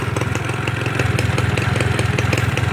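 A 1999 Yamaha F1ZR motorcycle idling just after starting, its small engine pulsing in a quick, even two-stroke rhythm, close and fairly loud, with revs rising slightly partway through.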